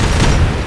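A loud, close volley of rifle fire erupts in the military shooter Arma 3 during a Black Templar unit operation. Overlapping shots merge into one dense, booming burst.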